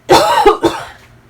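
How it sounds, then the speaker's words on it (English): A single person gives two or three harsh coughs in quick succession, close and fairly loud, with a brief breathy tail fading out afterward. "I'm going to cough."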